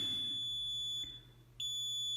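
A shrill electronic beep sounds continuously from an Ergonic HBC Radiomatic concrete pump remote control with its battery inserted backwards, cuts out for a moment, then resumes at the same piercing pitch.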